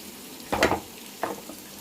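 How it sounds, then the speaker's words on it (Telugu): Tempering of chana dal, mustard seeds, cumin and green chillies for ridge gourd curry crackles in hot oil, with two short soft sizzling bursts set apart by a quiet pause. "ఆయిల్ పెట్టి తాలింపు దినుసులు అయితే వేసేసాను పచ్చనపప్పు ఆవాలు జీలకర్ర నేను మిరగాయలు వేసాను"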